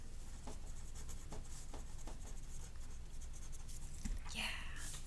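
Marker or chalk scratching across a classroom board in short strokes, soft and somewhat distant against a quiet room hiss, with a brief louder scrape near the end.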